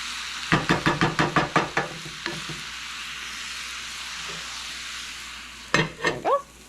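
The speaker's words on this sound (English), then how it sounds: "We're going to mix this up, let that beef come to temperature." A utensil scrapes and knocks in quick repeated strokes as ground beef is stirred in a hot pan, then steady sizzling, with a few more stirring scrapes near the end, close up.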